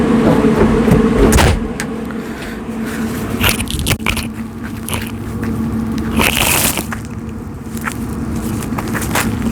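A door on a generator enclosure is swung shut, with a loud bang near the start followed by a few lighter clunks and latch clicks over steady background noise.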